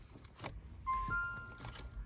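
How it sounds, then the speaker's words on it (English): A car's power is switched on, bringing a brief rising electronic tone over a low steady hum and faint clicks, fairly quiet and close. "Now I turn on the car and see."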